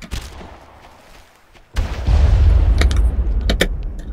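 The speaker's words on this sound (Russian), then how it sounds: "Ложись, граната!" A grenade goes off in the shooter game Far Cry: after a quiet stretch, one loud, close, low boom hits and rolls on with debris and rumble, followed by a few sharp clicks and smaller bangs.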